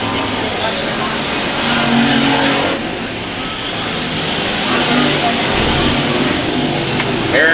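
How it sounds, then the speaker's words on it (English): Race cars roar around the I-35 Speedway oval, engines loud and continuous, swelling and fading as the pack passes side by side, with a race announcer talking over the noise. "Paul Grenier battling back on the outside, side by side."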